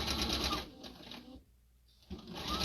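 A sewing machine stitches around a zipper in a fast, buzzing run that stops for under a second, then resumes stitching, close and clear with no talk.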